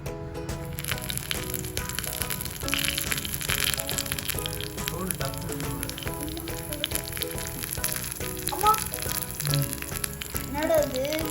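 Mustard seeds and lentils frying in hot oil in a miniature cooking pot, a steady close crackling sizzle with small pops throughout, while a voice talks over it at times.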